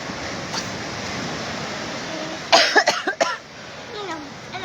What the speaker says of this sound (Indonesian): kalau sudah batuk begini